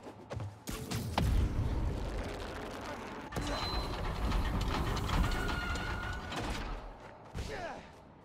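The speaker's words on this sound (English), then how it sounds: "Gotta move another train, just like the first." A subway train rumbles and clanks continuously in the Spider-Man: Miles Morales game on PS5, with mechanical rattles and a sharp slam partway through, loud and steady, with faint voice sounds mixed in.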